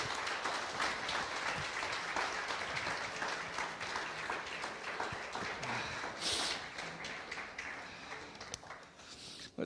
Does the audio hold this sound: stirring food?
no